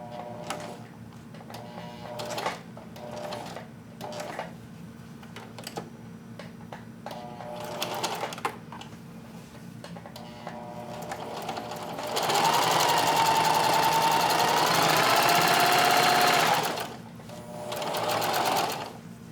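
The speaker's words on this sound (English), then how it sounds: "little bit of a sewing test here after doing all that good work" A Singer 4432 sewing machine, freshly oiled, greased and cleaned, runs a sewing test with short stop-start bursts of stitching, then a long steady high-speed run and a final brief burst, heard up close and loud.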